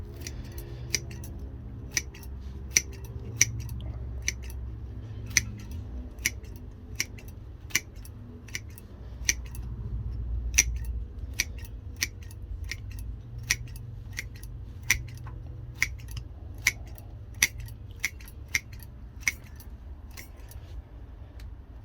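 Scissors repeatedly snipping through the roots of a large Crassula succulent bonsai being trimmed to one level for a shallow pot, with sharp close clicks at an irregular steady pace over a low background hum, no talking.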